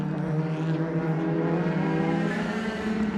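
BMW DTM race car engine being worked hard on board at Hockenheim, a loud sustained high-revving drone with dense harmonics and slight rise and fall in pitch, close and continuous without talk.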